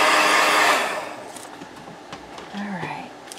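A hair dryer blows loudly on a painted doily, then drops away after about a second, leaving softer background movement and faint sounds.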